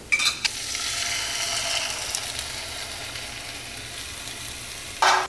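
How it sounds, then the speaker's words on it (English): Eggs fry in a pan of leftover sausage grease, giving a steady, moderately loud sizzle close by, with short clatters of utensils at the very start and end. "So you can add the eggs to just this little space right here, cook it up for you."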